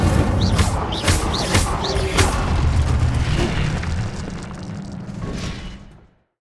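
The Incendio fire spell goes off in Hogwarts Legacy with a loud, booming burst of flame and a crackling rush that carries steadily before fading out abruptly.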